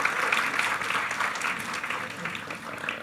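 An audience at a university graduation ceremony applauds the Paramadina choir, a steady, dense crowd clapping that carries evenly throughout, with a voice faintly present over it.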